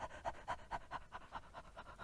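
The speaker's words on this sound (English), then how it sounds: "Just try panting even." A person pants rhythmically, about ten quick, faint breaths in a steady even pattern, alone and close.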